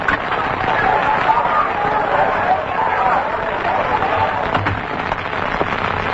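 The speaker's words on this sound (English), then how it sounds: "What's that? Sounds like a crowd." An angry mob in a radio drama murmurs as a steady, dense crowd rumble that stays continuous and fairly loud throughout, with no clear single voices standing out.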